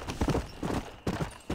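Horse hooves galloping in the video game Red Dead Redemption, a steady fast clip-clop rhythm of several close, loud hoofbeat clusters with no talk over it.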